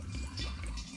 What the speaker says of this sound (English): I'm just going to pour a bit out.